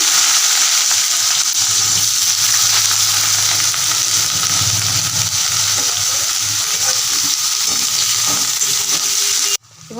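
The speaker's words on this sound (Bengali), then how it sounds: "তেলটা গরম হয়ে গেছে, পাওয়ারটা কমিয়ে পেঁয়াজটা দিয়ে দিচ্ছি।" Chopped onion sizzling loudly and steadily in hot oil on a lowered flame, a dense continuous crackle that holds for nearly the whole stretch before cutting off abruptly at the end, with no voices.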